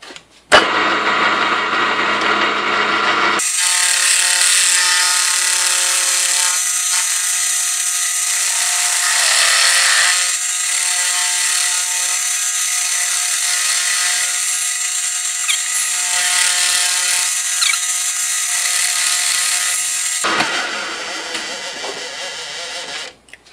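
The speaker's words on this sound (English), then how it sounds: "I'm gonna chuck this in the milling machine and just mill it off flat." A milling machine mills a metal part flat for a monitor VESA mount, giving a steady, loud, close mechanical whine with cutting noise that runs for about seventeen seconds between brief spin-up and wind-down sounds.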